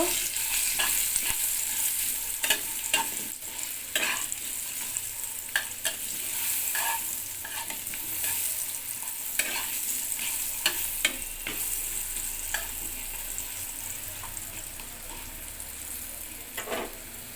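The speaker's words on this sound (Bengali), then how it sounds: "লবণ আর একটু হলুদের গুঁড়ো দেব। একটু ভেজে নেব।" Chicken fries with salt and turmeric powder in a hot pan, giving a continuous loud sizzle punctuated by sharp clicks and scrapes of stirring throughout.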